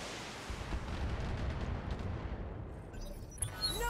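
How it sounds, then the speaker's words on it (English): Heavy weapons fire in a thunderous, continuous barrage of booming blasts that rumble and fade out, followed by a few faint electronic tones at the end. "Firing all weapons"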